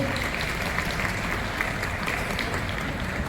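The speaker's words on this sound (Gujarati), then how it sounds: "તાળીઓના ગણગણાટથી વધાવી લેશો." Guests at the opening ceremony of an academy are welcomed by a dense, steady round of audience clapping that stays loud and even throughout.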